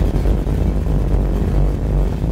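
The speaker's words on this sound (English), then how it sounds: "I love the sound of this motor. It's got a little bit of a cam in it" The V8 engine of a 1967 Chevrolet Impala Fastback with a mild cam rumbles loudly and steadily in a low, uneven lope at close range while the car drives along.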